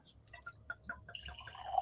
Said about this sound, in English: All right, I'm just gonna pour it.